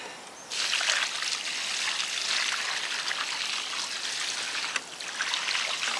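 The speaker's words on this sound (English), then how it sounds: "you want to give your tree a good drink after it's planted" Water is poured onto the base of a newly planted tree, a steady close splashing trickle that starts abruptly, briefly dips, then resumes, with no talk.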